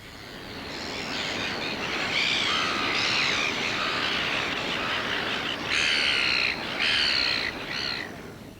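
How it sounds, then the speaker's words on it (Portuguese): Hundreds of seagulls squawking as a dense, loud flock scavenging scraps at sea, overlapping harsh calls rising and falling in continuous waves with a rough background wash. "centenas de gaivotas se lançam em busca dos restos e as espécies maiores afugentam as menores"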